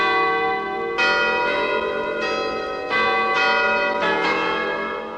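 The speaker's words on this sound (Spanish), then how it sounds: "al mediodía, repicarán las campanas de la iglesia" Church bells in Mixquic peal at midday in overlapping strikes, several rings a second or so apart, each leaving a bright, lingering metallic hum.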